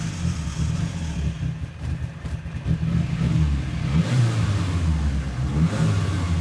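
A car on a dynamometer during a power run revs hard, its engine roar rising and surging in waves over several seconds, loud and close in a workshop setting.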